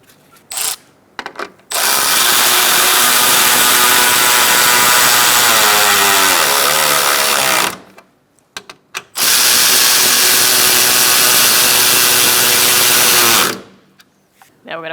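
A power tool snugs down radiator bolts on a 2007-2017 Ford Expedition 5.4L V8, two long loud whirring runs of about six and four seconds with short clicks and quiet gaps between.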